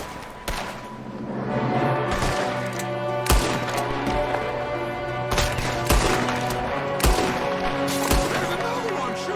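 Bursts of gunfire ring out in Red Dead Redemption 2 Online, with sharp, loud shots repeating irregularly through the whole stretch over steady background music.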